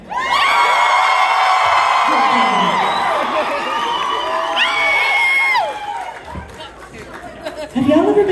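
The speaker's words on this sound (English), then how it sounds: "This is a really good crowd." A concert crowd at The Showbox in Seattle cheers, whoops and yells loudly and continuously, eases off for a moment, then swells again.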